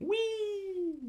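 A single drawn-out cat meow, close and clear, holding steady before sliding down at the end, with a brief spoken word over it.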